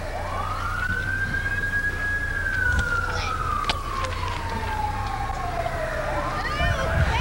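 A St. John Police Department car moving in a parade sounds a single long siren wail that rises, holds and slowly falls, with engine rumble and crowd noise underneath.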